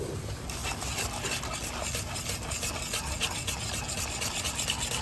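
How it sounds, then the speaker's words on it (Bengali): A grandmother stirs powdered milk in a pot with a utensil, giving a steady scraping, rubbing rasp that runs throughout with small rhythmic strokes, close and fairly loud. "ঠাকুমা, তুমি যেই জিনিসটা দিয়ে নাড়া দিচ্ছ"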